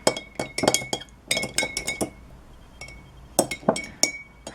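A spoon clinks against a glass container while stirring a chemical solution, producing sharp repeated taps in quick clusters with short pauses between, close and fairly loud with no talking.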